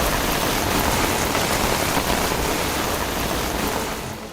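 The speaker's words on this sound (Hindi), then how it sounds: "यहाँ बीते 24 घंटों से तेज बारिश हो रही है" Heavy rain falls steadily on surfaces in Bhatkal, Uttara Kannada district, Karnataka, a dense continuous roar of drops that stays loud throughout and eases slightly at the very end, with no voices.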